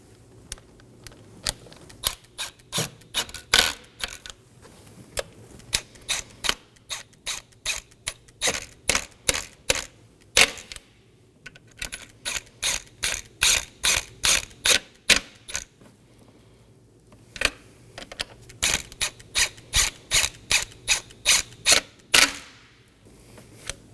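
Rapid ratcheting clicks in bursts from a hand ratchet snugging intake manifold fasteners on a 2015-2023 Nissan Maxima 3.5L V6, close and crisp, with brief pauses between fasteners and no speech.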